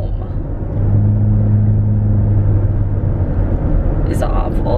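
A car drives along the road, a steady low engine and road rumble heard from inside the car, continuous and even for the whole stretch.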